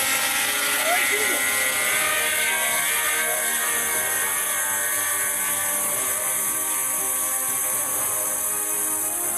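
A DJI drone lifting off, its rotors spinning up into a steady, loud, high-pitched whine and buzz that holds without pause, with no talk over it.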